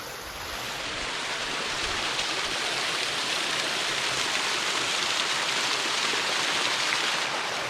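Waterfall heard from the top of the falls in a park, a loud continuous broadband rush of water that swells in over the first second and then holds steady without a break.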